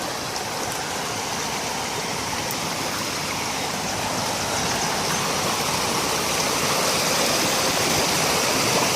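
A swollen brook running high and fast after heavy rain, carrying large sticks along; a steady, loud, close rush of turbulent water fills the whole stretch without a break.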